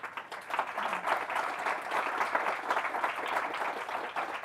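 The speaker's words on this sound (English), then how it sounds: "How about a round of applause for our panelists?" A room full of people applauds panelists after an EU policy panel discussion on electricity grid investment, a steady wash of many hands clapping at moderate level throughout.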